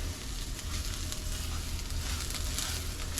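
Rice toasting in hot oil for Mexican rice, a steady close sizzle and crackle that holds for a few seconds with no voices.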